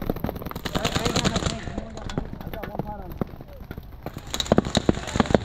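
Rapid machine gun fire crackles in a tank battle video game, with dense bursts of sharp shots rattling continuously while players talk over the gunfire.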